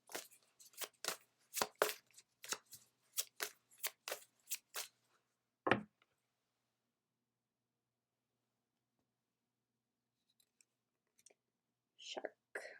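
A Spirit Animal card deck is shuffled in a rapid series of crisp riffling bursts, followed by a single card being pulled, close and quiet, then near silence and faint rustling.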